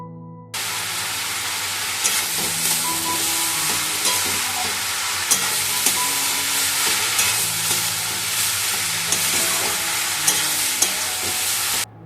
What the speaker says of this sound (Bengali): এদিকে করছি ভেন্ডি ভাজা